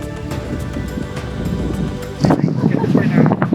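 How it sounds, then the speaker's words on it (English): Wind roars across the microphone on an open safari vehicle during a hot African game drive, a steady rushing buffet that swells louder partway through. "I'm hanging onto my hat as it's very windy"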